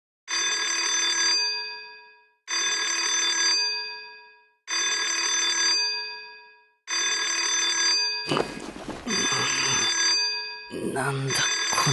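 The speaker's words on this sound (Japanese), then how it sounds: "音の正体は目覚まし時計。" Alarm clock ringing in the game Twisted Wonderland, four loud repeated bell-like trills with short gaps, followed by scrambling noise and clattering as the ringing continues.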